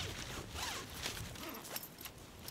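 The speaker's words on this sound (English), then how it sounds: "Two-way zipper, very good quality, opens nice and easy." A two-way sleeping bag zipper being drawn open in one steady pull, a soft scratchy rasp close by with light rustling of fabric.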